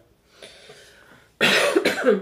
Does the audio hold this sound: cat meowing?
no